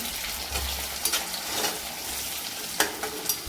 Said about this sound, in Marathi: आता आपण कढीपत्ता टाकून घ्यायचा आहे कढीपत्त्याला पण छान परतून घ्यायचं